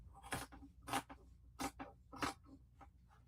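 Scissors cutting through quilting fabric for a zippy bag, four distinct slow snips about two-thirds of a second apart, each with a soft secondary crunch, close and quiet with no talking.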